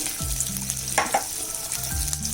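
Chopped onion, garlic and ginger frying in oil in a pan, a steady close sizzle broken by a few spoon strokes and scrapes.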